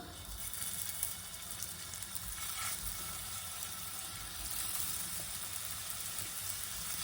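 Meatballs frying lightly in oil give steady sizzling, a continuous crackling hiss with faint clinks, no one speaking.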